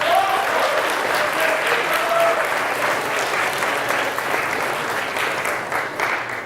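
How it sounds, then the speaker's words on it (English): An audience at a school mental health talk applauds, a dense sustained round of clapping that fades slightly toward the end. "let's give them a quick round of applause"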